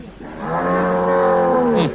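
A single long, loud bovine moo from cattle at a northern Thai livestock market, a close, sustained low call lasting nearly two seconds with no talk over it.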